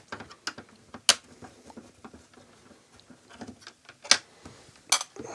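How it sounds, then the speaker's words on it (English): Phillips screws are worked out of a PAL Super Nintendo console's casing during a restoration, giving small clicking, ratcheting taps and a few sharp metallic clinks, close up and quiet with no talking. "now we're just going to have to remove all the Phillips screws in here and the little fluff bolts"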